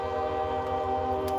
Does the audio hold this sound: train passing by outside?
yes